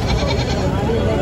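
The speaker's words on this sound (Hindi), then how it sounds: "ये देखिए उन्हीं की बकरी एक बरबरी लगी हुई है माशाल्लाह, बड़ी खूबसूरत सी" A young Barbari goat bleats at a crowded goat market in Alwar, its short cries close by and mixed into a dense wash of crowd chatter and market noise.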